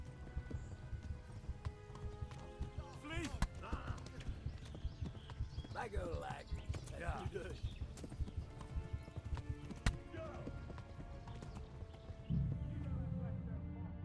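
Horse hooves clip-clopping in the medieval video game Kingdom Come: Deliverance, a steady rhythmic patter under game noise, with a brief whinny and a spoken voice over the top.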